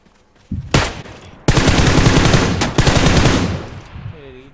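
Gunfire in the video game PUBG Lite, heard as a few sharp single shots followed by a loud, sustained automatic burst. The burst is briefly interrupted and trails off at the end. Hindi voices talk faintly underneath.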